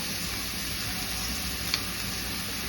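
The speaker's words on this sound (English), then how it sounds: "add in some sugar and mix everything together, you guys, while that cooks" Curry powder and sugar sizzle steadily in a hot pot while being stirred, a continuous close frying hiss with a faint scrape of the spoon and no talking.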